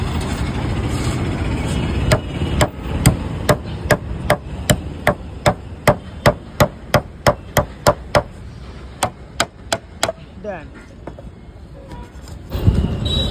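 Ropes holding down a tarpaulin on a shop stall being chopped through, a steady run of about twenty sharp, evenly spaced knocks over a low engine-like background hum, then quieter rustling.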